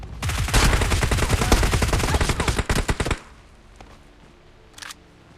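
Rapid automatic gunfire in the mobile battle royale game BGMI, a dense burst of loud shots lasting about three seconds, then stopping abruptly, followed by near quiet with one faint later report.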